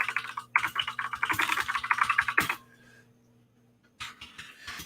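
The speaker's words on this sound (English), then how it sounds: "So if I'm typing something, this is how I type." Quick bursts of hunt-and-peck typing on a computer keyboard, a few fingers tapping close up in a rapid uneven clatter for about two seconds, then a pause before another short run of keystrokes.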